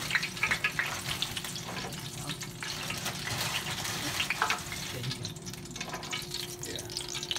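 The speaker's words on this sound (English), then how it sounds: "I'm gonna drop some french fries real quick." French fries deep frying in hot oil while lemon pepper hot wings are cooked, giving a steady, loud crackling sizzle with bubbling bursts that runs unbroken throughout.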